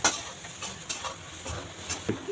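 Masala and onions for chole sautéing in a pan, a quiet sizzle with intermittent scraping and stirring taps from a spoon, close by.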